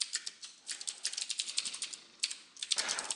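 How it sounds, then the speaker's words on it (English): Rapid typing on a computer keyboard during a C++ programming session, a steady patter of clicky keystrokes with brief pauses and a denser burst near the end, close and fairly quiet. "There's definitely typing occurring at some point."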